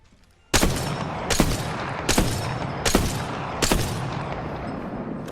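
Five loud, evenly spaced unscoped sniper rifle shots ring out in a video game, each a sharp crack with a lingering tail, roughly three-quarters of a second apart, with no talking.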